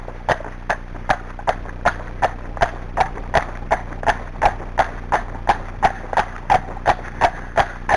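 A Friesian horse trots fast, with crisp, evenly spaced hoofbeats in a steady two-beat rhythm, close and clear throughout.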